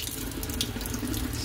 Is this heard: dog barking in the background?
no